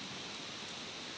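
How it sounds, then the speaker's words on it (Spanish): Rain falling outdoors during a church service, a faint, even hiss of drops with no voices. "mientras llueve bonito"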